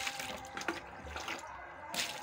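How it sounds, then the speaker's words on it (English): Water is poured from a tap into a container over washed bitter leaf, giving a close, fairly quiet splashing and trickling with a few brief surges and no talking. "you add another water."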